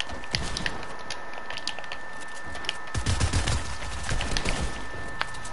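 Automatic gunfire from the shooter game Operation Knockout, a broadband crackle of rapid shots running through the clip with heavier bursts in the second half and a sharp crack near the end.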